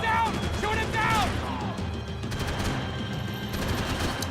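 Video game gunfire, dense and continuous like rapid automatic bursts, with a voice heard early on over the shooting.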